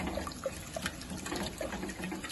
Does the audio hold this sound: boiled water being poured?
yes